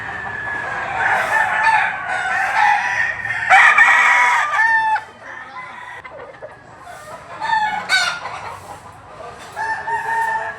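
Gilmore hatch gamefowl roosters crowing and clucking at the Lipa livestock auction market, several loud overlapping crows up close amid a busy crowd murmur.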